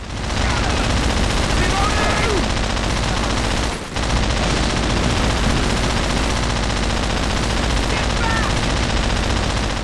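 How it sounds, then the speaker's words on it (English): Dense, relentless machine gun fire from Call of Duty: World at War, loud and almost unbroken for the full stretch, with one brief dip near the middle before the rattling barrage resumes just as harshly. "I know that machine guns are loud, but you don't need to blow out my eardrums every freaking time"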